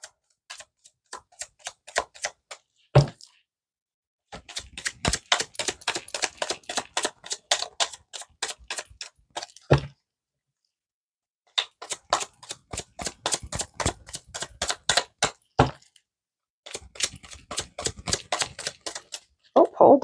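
Tarot cards riffle and flutter in rapid clicking runs as a deck is shuffled close to the listener, the bursts broken by short pauses and sharp taps of the deck.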